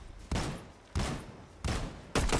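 Gunfire from the video game Fortnite, four loud bursts of shots at regular intervals, each opening with a sharp attack and then trailing off.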